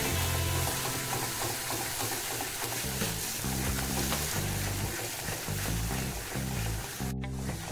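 Onion and garlic masala paste frying in oil over a low flame while stirred for a cauliflower, potato and peas curry, giving a steady close sizzle with stirring scrapes throughout, over soft background music.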